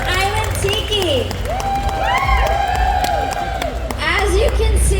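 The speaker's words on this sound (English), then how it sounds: "Round of applause, Miss Island Tiki." An audience at a pinup pageant during a tattoo expo claps, cheers and whoops for a contestant, lively crowd noise close by with voices over it.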